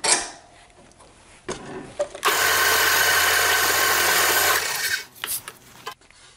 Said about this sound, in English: Using the drill press assures the hole goes straight through